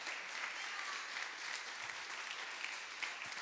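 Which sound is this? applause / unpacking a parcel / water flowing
applause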